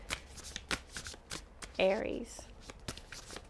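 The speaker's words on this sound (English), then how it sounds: "One more shuffle." Tarot cards are shuffled by hand in a steady run of crisp, close riffles and taps, with one longer burst partway through, under a speaking voice.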